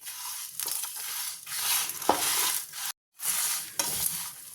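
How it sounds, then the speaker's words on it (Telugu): Whole spices and curry leaves dry roasting in a pan for temple-style tamarind pulihora, dry rustling and scraping as they are stirred, with a brief silent gap midway. "చూడండి, ఈ మసాలా దినుసులన్నీ బాగా వేగేసినాయి. కరివేపాకు కూడా బాగా డ్రైగా వేగింది."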